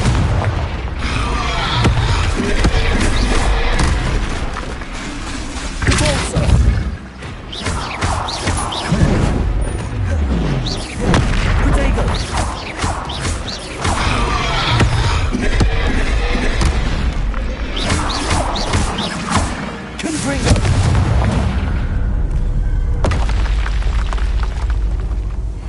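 Repeated Confringo fire spell blasts in the video game Hogwarts Legacy, loud booming explosions and crashes one after another in a dense, continuous barrage.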